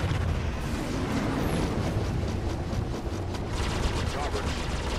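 In the space-combat game Star Citizen, a missile explodes around an Aegis Sabre fighter, giving a loud, dense burst of blasts and rumble amid continuous battle noise, with a voice speaking briefly.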